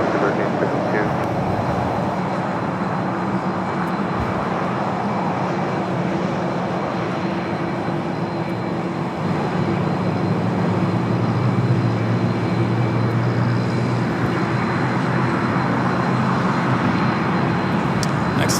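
Alaska Airlines Boeing 737 MAX 9 jet at LAX rolling for takeoff on runway 25 right, a steady broadband engine roar held loud and constant throughout with a faint voice underneath.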